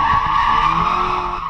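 Car tires skid and squeal on a racetrack in third gear at about 120 km/h after a handbrake nip and full throttle, a loud, sustained screech with engine roar that holds steady throughout.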